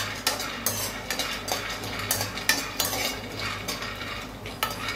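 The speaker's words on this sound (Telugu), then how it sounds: "వేరుశనగపప్పు బాగా ఫ్రై చేసుకోవాలి." Peanuts frying in a pan on a stove, stirred with a utensil that scrapes and clinks against the metal every second or so, over a steady low background hum; no one speaks.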